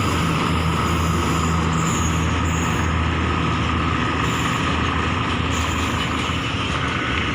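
Freight train 601 stands idling at Bang Sue junction, a loud, steady diesel engine rumble with broadband mechanical hiss running unbroken throughout.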